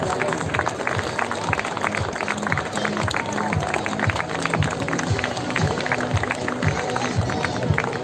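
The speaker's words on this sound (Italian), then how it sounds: "Un applauso alla Cinzia." An audience applauds at a fashion show, steady dense clapping that carries on throughout while a presenter talks over it.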